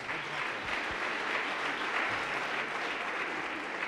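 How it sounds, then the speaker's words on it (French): An audience at an awards evening for positive-economy companies applauds six firms, a dense, even sheet of clapping sustained throughout at moderate distance. "je vais vous demander de les applaudir"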